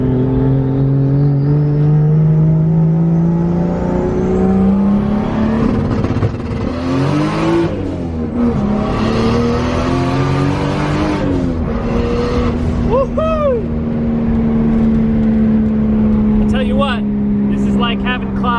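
A Nissan 240SX with a 2JZ engine and anti-lag accelerating hard onto a highway: a loud, close engine drone climbs steadily in pitch, dips briefly through a gear change, then pulls again with crackling bursts.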